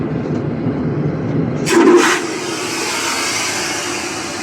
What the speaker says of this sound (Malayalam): റിയലി ഭയങ്കര ശബ്ദമാണ് ഇത് ഫ്ലഷ് ചെയ്യുമ്പോൾ